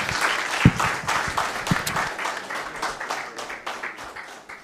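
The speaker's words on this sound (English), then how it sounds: "I think those kids deserve another hand of applause" A hall audience applauds children at a project kick-off meeting, a steady wash of many hands clapping for several seconds, loud and close, with no talk over it.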